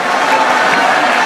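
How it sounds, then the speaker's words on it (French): A large crowd at a political gathering applauds the delegates of the Greater Kasai region, a dense, steady wash of clapping and cheering that fills the space, loud and unbroken. "est-ce qu'on peut bien applaudir pour le grand Kassai?"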